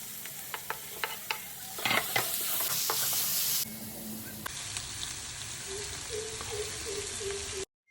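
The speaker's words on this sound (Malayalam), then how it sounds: "പിന്നെ ഇതിലേക്ക് നമ്മൾ പച്ചമുളകും തക്കാളിയും കൂടെ ആഡ് ചെയ്ത് കൊടുത്തു" Onions with green chilies and tomatoes fry and sizzle in a pan for kothu parotta while a spoon stirs them, giving a steady hiss broken by short scraping knocks, close and moderately loud.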